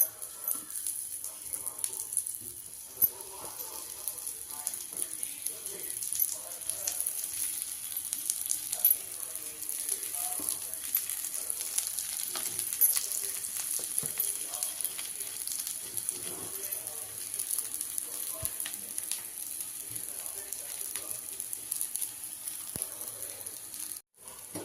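Sweet potato cutlets sizzle in oil on a tawa, a steady close frying hiss that runs unbroken throughout with faint scrapes and clinks, no talking.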